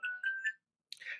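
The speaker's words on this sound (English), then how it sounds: "Sorry about the phone." Phone ringing with short electronic tonal bursts in a quick repeating pattern, then a pause and a brief noisier burst, clear and fairly close without talk.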